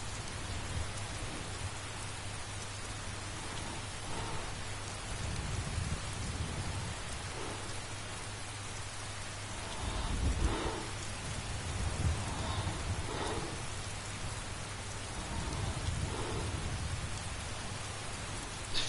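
Steady rain falls in the Skyrim game world, a dense even hiss of drops on surfaces, with low rumbles of wind or distant thunder swelling now and then underneath.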